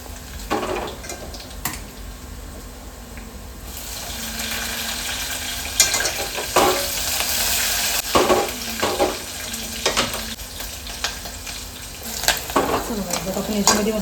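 Cumin and mustard seeds fry in hot oil in a home kitchen pan. A soft sizzle rises and becomes steadier, broken by scattered pops, stirring scrapes and clinks of a utensil.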